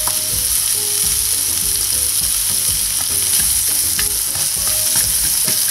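Sliced carrots sweat in a hot pan with a steady close sizzle, punctuated by scraping and clattering as they are stirred, continuous and fairly loud throughout.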